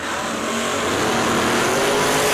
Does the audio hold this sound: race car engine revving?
yes